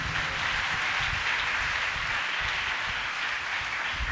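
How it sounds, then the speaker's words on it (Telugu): A church congregation at a Good Friday service claps loudly together, a dense, steady wash of applause filling the whole stretch without pause. "చప్పట్లు కొడదాం అందరూ గట్టిగా."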